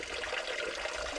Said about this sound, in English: letting this little trickle of water down in a very interesting way